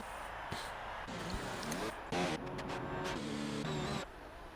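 A Haas Formula 1 car in a racing video game circuit at Bahrain, its high engine note rising and shifting through gear changes as it approaches and passes at moderate volume.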